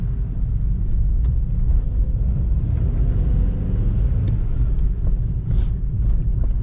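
A BMW 318i sliding sideways on snow during winter drifting, heard from inside as a steady, loud low engine and road rumble that continues without a break, with no voices over it.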